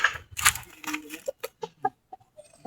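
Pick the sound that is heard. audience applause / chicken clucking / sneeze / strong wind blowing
chicken clucking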